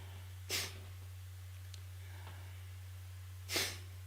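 Two sharp, forceful nasal exhales about three seconds apart, done as a breathing exercise, each a short breathy burst over a constant low electrical hum.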